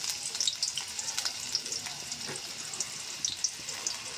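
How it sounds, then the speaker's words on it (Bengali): Chopped onion sizzles in hot oil in a wok, a steady close crackling hiss with small pops, heard alone without talking. "এখন পেঁয়াজ কুচি দিয়ে দেবো"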